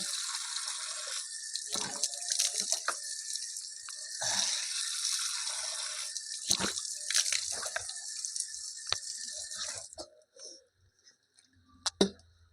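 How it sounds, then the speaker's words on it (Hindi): Water splashes and runs from a tap while a face is washed for wudu, a steady close wash broken by bursts of splashing, ending with a few faint drips and a final splash. "इस तरह से पानी लेंगे और पूरा चेहरा धोएंगे अच्छी तरह से।"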